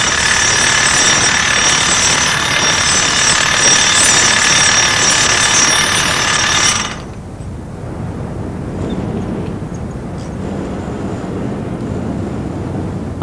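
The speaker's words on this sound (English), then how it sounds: "you use the anchor itself as a drill bit" A power drill bores into masonry, using a self-drilling anchor as the bit, with a loud, steady high-pitched whine that cuts off abruptly partway through, leaving a lower background rumble.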